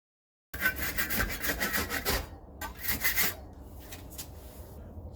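Great Stuff expanding foam on a camper shell is trimmed with a blade, giving close rasping, sawing strokes in quick bursts that pause, then resume more faintly.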